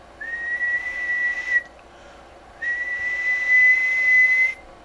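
A person whistles steady tones into a keyed radio microphone on a Transel Dynamite 150 setup, two sustained held notes separated by a short pause, clear and fairly loud over a faint hiss.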